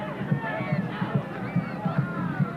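Large stadium crowd at a Flamengo football match on Canada Day, steady hubbub with a regular samba drum beat thumping underneath and a commentator talking over it.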